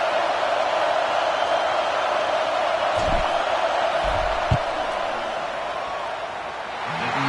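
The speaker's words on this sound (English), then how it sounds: "This crowd trying to do its part to get inside the kicker's head." A stadium crowd in the college football video game NCAA 26 holds a steady, wide roar while a field goal is lined up, with a few brief thumps partway through.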